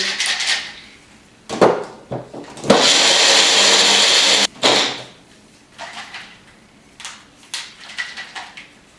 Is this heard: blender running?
yes